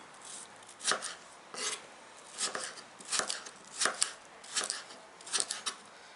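A knife chops watermelon rind steadily on a cutting board, about a dozen crisp, evenly spaced strokes with a slicing rasp, close by and with no talking.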